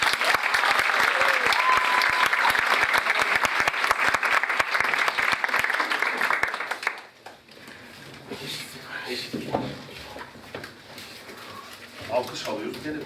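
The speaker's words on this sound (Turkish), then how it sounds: "Alkış alıyoruz, gene biz topluyoruz." Audience applause at a Turkish improv comedy show, dense clapping for about seven seconds that then cuts out, followed by a performer talking with light crowd noise.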